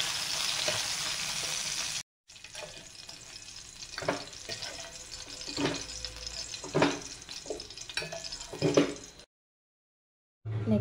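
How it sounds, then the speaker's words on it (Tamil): Green chillies and peanuts frying in oil for an Andhra-style kovakkai pachadi, a sizzling crackle broken by several stirring scrapes, close by, with brief silent gaps and no talk. "வேர்க்கடலை விட்டு பச்சை மிளகாய் வதங்கிடுச்சு, எடுத்துக்கலாம்."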